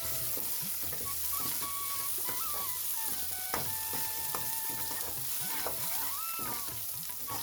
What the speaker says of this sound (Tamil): வழக்கம் போல் வெங்காயம் கொஞ்சம் பொன்னிறமாகட்டும்